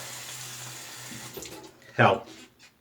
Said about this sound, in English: we're going to rinse again that second pass